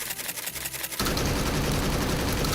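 Rapid gunfire from a gun in Devil May Cry 5, starting after a brief quieter stretch and then bursting into a dense, continuous, loud stream of shots with no gaps, close and alone.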